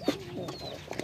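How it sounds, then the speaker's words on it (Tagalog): Soft, close cooing from racing pigeons, a low throaty coo followed by a few quieter murmurs and faint rustles, with no talking. "Eh mga ibon natin mga kalapatids"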